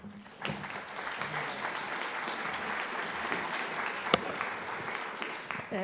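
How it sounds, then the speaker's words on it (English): A conference audience applauds the speaker Patricia at an assisted decision-making event, with steady, dense clapping that fills the room for several seconds and one sharp louder clap near the end. "I'd like you to give a round of applause for Patricia."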